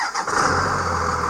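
A 2001 second-generation Dodge Ram pickup with a Cummins diesel engine idles close by, a steady low rumble with a slight roughness that carries briefly without any talking.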